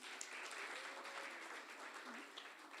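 Lecture audience applauding at the close of a spring lecture talk, a steady dense wash of clapping that holds evenly throughout with no voices over it.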